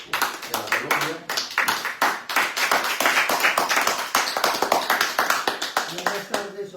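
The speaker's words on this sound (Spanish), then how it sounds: "Un fuerte aplauso para Eder, de la Colombia." A small audience at a talk in Rome gives a round of applause, with sharp, distinct claps in a brisk irregular rhythm. A voice speaks over the start and the end of the clapping.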